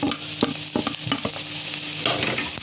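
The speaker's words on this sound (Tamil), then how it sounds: "எண்ணெய் காஞ்சதுக்கப்புறம் பொடியாக கட் பண்ணி வச்சுருக்க பூண்டு போட்டுக்கலாம்." Finely chopped garlic fries in hot coconut oil, crackling and sizzling close up, with a spoon scraping and clinking the pan in uneven strokes throughout.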